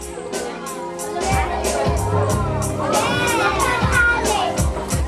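Children and guests at a first-birthday party magic show clap in quick, steady bursts amid crowd chatter and children's shouts, loud and close.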